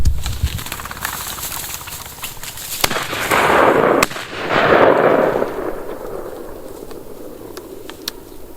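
Shotgun blasts during a bird hunt in Southwest Virginia, several sharp outdoor reports spaced a second or two apart, the loudest near the middle, ringing across open country with a dog and hunters nearby.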